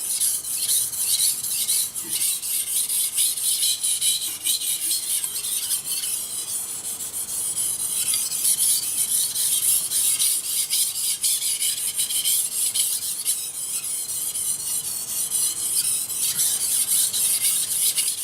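A knife blade rasps steadily back and forth across a Chroma P35 Japanese water stone, grit 1000/3500, a continuous close scraping with regular strokes and no talk.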